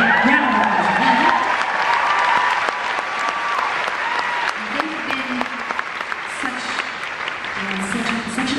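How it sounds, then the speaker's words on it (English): Sustained applause from a concert crowd at the Orpheum Theatre in Boston, steady clapping throughout with faint voices underneath, heard from within the audience. "And yeah, round of applause."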